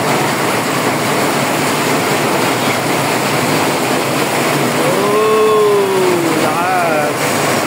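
Vehicles, including motorbikes, plowing through flood water during a sudden downpour with strong wind, a steady loud wash of rushing water and rain with engine drone, and a rising whistle-like whine near the end.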